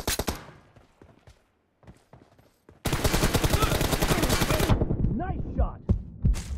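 Rapid gunfire in the video game PUBG during a team deathmatch, with a few scattered shots first, then a dense, loud automatic burst lasting about two seconds that gives way to lighter game sounds.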